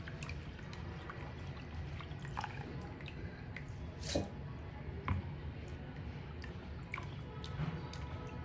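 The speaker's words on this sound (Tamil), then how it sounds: "ராகி உளுந்து அப்படியே அலசி அலசி எடுத்தோம்னா கீழே கல் மண் இருந்துச்சுன்னா அப்படியே நின்றுக்கும்." Ragi and urad dal are swished and rinsed in water, giving faint dripping, trickling and wet sloshing sounds with occasional louder splashes, heard close and fairly quiet.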